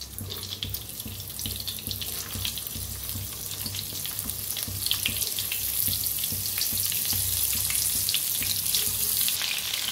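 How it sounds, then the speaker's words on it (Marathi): Stuffed bitter gourds fry in hot oil in a kadai on a gas stove, giving a steady, close, hissing sizzle that grows slightly denser and louder over time, with no talking. "खालीवर करून असं थोडंसं तेलात भाजून घ्यायचं."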